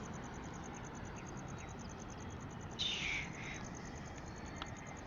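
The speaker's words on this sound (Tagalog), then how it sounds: "Ibon." A bird calls out once in the early morning outdoors, a short clear cry over a steady low rumble of background noise and faint rhythmic chirping.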